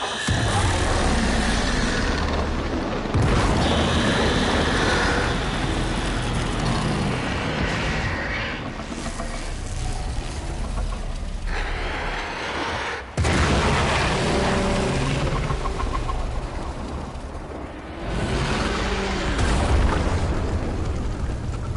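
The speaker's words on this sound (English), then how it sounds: "There should be useful detritus falling from the explosion." Explosions in a video game boom loudly over a dense rumbling mix, with sharp blasts near three and thirteen seconds and sustained roaring debris and ambience in between.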